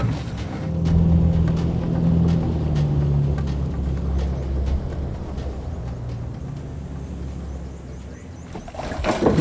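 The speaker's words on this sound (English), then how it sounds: "the men move the boat into position" A boat being moved into position along a riverbank gives off a steady low motor rumble with water wash, loud and continuous for most of the stretch, then briefly easing.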